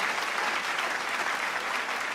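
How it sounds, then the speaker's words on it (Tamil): Hall-filling applause from a studio audience greeting the debaters on a Tamil Diwali special family debate show, a dense, steady wash of many hands clapping close and loud throughout. "ஒரு அரங்கு நிறைந்த கைத்தட்டலோடு அவர்களை வரவேற்று"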